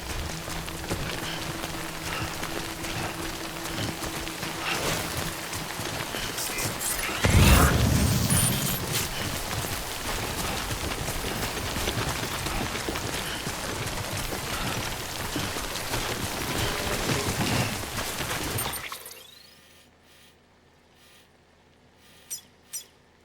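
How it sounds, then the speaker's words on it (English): Rain falling in the video game Death Stranding, a dense steady patter of drops over the terrain with a brief heavier gust in the middle, then cutting abruptly to near silence with two faint soft knocks. "Good thing it was raining."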